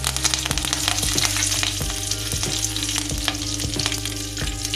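Cumin seeds and curry leaves sizzle in hot oil for a South Indian tempering, a loud steady frying hiss with sharp spluttering pops scattered throughout.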